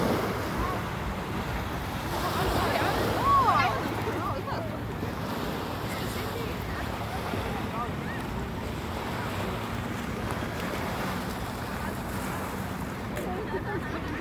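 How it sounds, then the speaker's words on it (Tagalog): Strong sea waves wash against the shore at night in Port Dickson, a continuous broad rushing roar with wind buffeting the microphone and no clear breaks between surges. "Lakas ng alon niyo."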